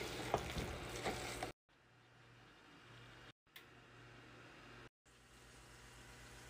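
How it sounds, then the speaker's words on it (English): Cassava leaves frying in olive oil with onions, green peppers, ginger and garlic give a faint steady sizzle, louder with some stirring at first, then quieter and broken by short silent gaps. "I don't boil it, instead I fry it in the olive oil until it's cooked."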